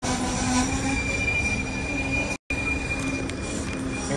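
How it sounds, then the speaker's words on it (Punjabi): A short train pulls into a station in Portugal, its wheels squealing steadily against the rails with a constant rumble and a brief gap in the middle, fairly close and with no talk. "ਲਓ ਜੀ ਦੇਖੋ ਆ ਗਈ ਟ੍ਰੇਨ।"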